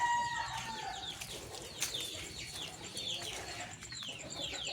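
Chickens cluck and chatter in a backyard coop, several birds calling over one another in quick overlapping bursts at moderate distance, with a soft background hum and no talking.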